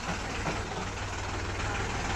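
A Mahindra tractor engine runs with a steady, dense rumble and broad noise for a couple of seconds, close and constant, with no voices over it.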